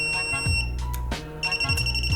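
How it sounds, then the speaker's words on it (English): A Classic Army SCARAB airsoft gun's MOSFET gives a quick series of short electronic beeps to signal its fire mode, clear and close, with some clicks and handling noise between them. "you're going to hear a series of beeps that tells you what mode you're in"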